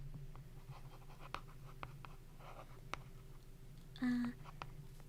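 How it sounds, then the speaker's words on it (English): Pen or pencil scratching notes onto paper in a quiet clinic-like room, a soft intermittent scribble with light taps under a low steady hum, close and gentle. "Let me just write that down."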